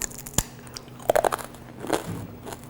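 A few crisp crunching bites into sakinalu, a fried snack, sharp crackly bursts close up, followed by softer chewing in a quiet room.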